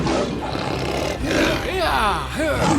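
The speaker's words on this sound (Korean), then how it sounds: "사자는 크게 울부짖으며 도망치려 했지만" A lion in an animated fable lets out a loud, drawn-out roar with sweeping, growling rises and falls, filling the scene on its own.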